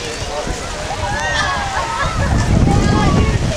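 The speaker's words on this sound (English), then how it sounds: "This rain will not let up." Heavy rain and gusting wind sweep over an outdoor boys' varsity soccer match, a broad steady rush of wind and water that swells louder toward the end, with voices faintly audible beneath.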